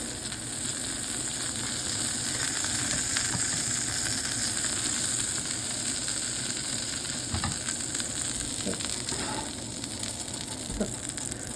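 A steak searing in a hot pan gives a loud, continuous close sizzle with occasional sharper crackles and a few soft clunks, alone without speech.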